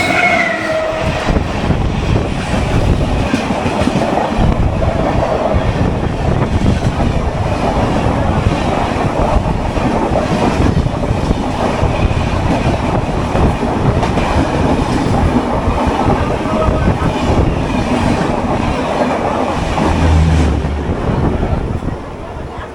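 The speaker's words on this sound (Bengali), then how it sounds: "এই হাওড়া থেকে দীঘা যাওয়ার স্পেশাল ট্রেন" Howrah to Digha special local train running, a continuous loud rumble of wheels and carriage with clicking rail joints and some squeal, heard from on board.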